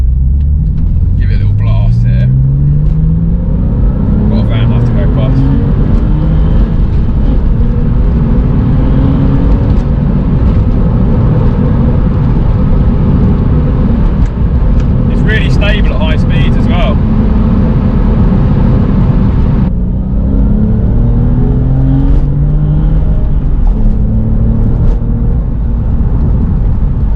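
A Porsche 996 engine revs up and accelerates hard on Michelin Pilot Sport 5 tyres, a loud rising roar with gear changes, sweeping upward tones repeating as it pulls through the gears.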